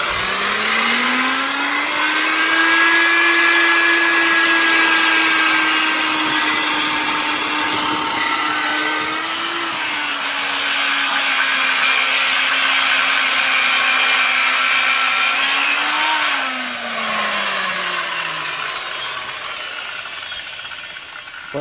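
A power saw cuts through an asbestos pipe, its high motor whine steady and loud for most of the cut, dipping in pitch under load and spinning down near the end; no voices.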